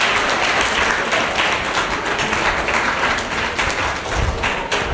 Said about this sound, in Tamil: அழகாக உற்சாகமாக கைத்தட்டி நம்ம வரவேற்கலாம்.